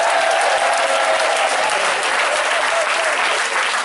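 Congregation at a church night vigil at Centre Péniel in Divo claps loudly and steadily in praise of Jesus, a thick wall of applause from the whole room with cheering voices mixed in, holding without a break.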